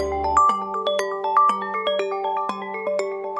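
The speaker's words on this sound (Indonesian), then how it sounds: "ada telepon dari mantan komandan saya" Phone ringtone for an incoming call, a bright, close tonal melody of repeating chime-like notes that plays loudly and alone, with no talk.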